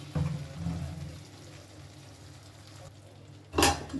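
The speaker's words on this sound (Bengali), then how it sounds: "ভালো করে এটা আমি এবার মিশিয়ে নেব।" A chilli, tomato and soy sauce mixture, for Chinese-style chilli gobi, is stirred in a pan with soft, low scraping and swishing near the mic, ending in a sharp clink against the pan.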